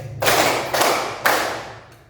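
A classroom group claps in unison in a rhythmic clapping game: three sharp collective claps spaced roughly half a second apart, each a loud, close burst that decays briefly before the next.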